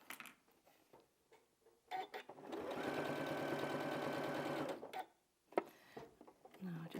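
A sewing machine stitches scrap fabric binding onto a quilt in one steady run of rapid, even clatter lasting about three seconds, flanked by quieter handling noises and a few clicks.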